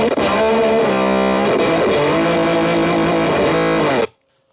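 Electric guitar played through the Motor pedal's synth engine with every knob at noon gives a loud, thick, fuzzy synth tone full of overtones, sustained for about four seconds before cutting off abruptly into silence.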